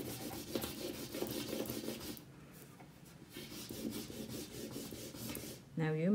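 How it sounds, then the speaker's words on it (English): A crayon rubs sideways over paper laid on a paper tangram, a close, scratchy rasping in repeated strokes with short pauses and one brief squeak near the end. "use the side of your crayons and make a rubbing"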